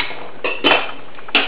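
A spoon stirs hot wheat cereal in a cooking pot, giving a few short scraping bursts against the metal with quiet gaps between them.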